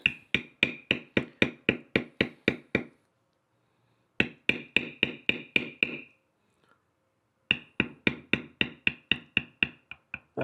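A mallet strikes a beveling tool on leather in rapid, even taps, three bursts of about ten close, crisp knocks each, separated by short pauses.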